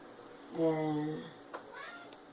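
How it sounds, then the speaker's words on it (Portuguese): A house cat gives a clear, drawn-out meow close by, followed by a shorter second mew, with a voice speaking faintly nearby. "É teu gato."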